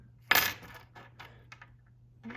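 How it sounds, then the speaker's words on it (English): Small Master Lock padlock keys jingle in a bunch, a sharp metallic clatter at the start followed by several lighter, scattered clinks, fairly close and alone with a faint steady hum underneath. "these are all master lock keys to go to small padlocks"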